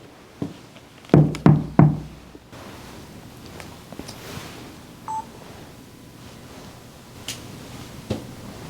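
Three loud, quick knocks on a door inside an old hotel, close and sharp, then a quiet stretch with a few faint taps and creaks.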